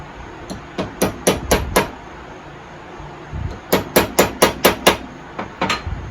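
A sharp-pointed punch is struck with a hammer to pop out Welch plugs on an old Stihl chainsaw, making sharp metallic taps in two steady rhythmic runs of about five to six blows, close and loud with a pause between.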